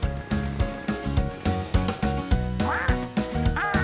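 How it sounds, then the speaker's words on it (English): A cartoon duck quacks in short, nasal bursts over bright, bouncy children's cartoon music, the calls rising near the end of the passage with no talking. "That's Dylan the duck."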